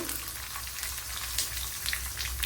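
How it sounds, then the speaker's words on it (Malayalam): Dense crackling and spitting sizzle of mustard seeds popping in hot oil, steady and close, with scattered sharper pops. "ഇനി ഇവിടെ കടുക് പൊട്ടിയിട്ടുണ്ട്"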